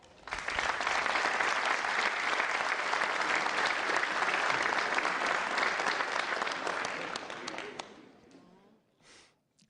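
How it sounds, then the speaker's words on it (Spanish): A large audience at a music semifinal bursts into sustained, dense applause that holds strong for several seconds and then fades away, with a few scattered claps trailing off at the end. "Un fuerte aplauso para Antonio González."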